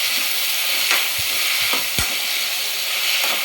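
Tomatoes sautéing in an oil-coated pan for tomato curry: a steady, close hiss of frying with a few soft spoon scrapes and knocks as the pan is stirred, no voices.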